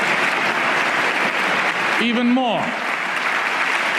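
Steady, dense applause from a large audience at a political speech, sustained throughout, with a brief spoken phrase rising over the clapping partway through.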